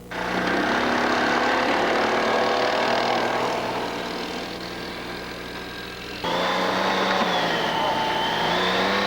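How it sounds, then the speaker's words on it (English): Loud snowmobile engines droning close by, a sustained roar whose pitch dips and then jumps up again partway through. "And, in the winter, snowmobiles."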